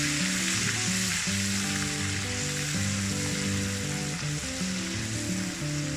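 Ginger garlic paste frying in oil for fish karahi gives a loud, dense, continuous sizzle up close, with light stirring and background music underneath throughout.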